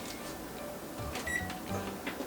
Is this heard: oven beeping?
yes